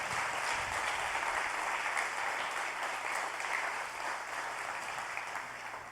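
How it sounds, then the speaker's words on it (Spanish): A church congregation applauds during a Spanish-language sermon, a steady wash of many hands clapping at moderate distance, continuous and even for several seconds. "Denle un aplauso al Señor porque Él nos va a ayudar."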